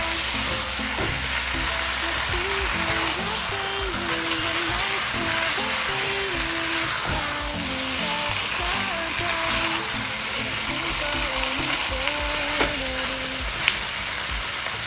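Chicken for majboos stirring and sautéing in a pan, a steady loud sizzle with spatula scrapes and stirring, played under music with a steady melody throughout.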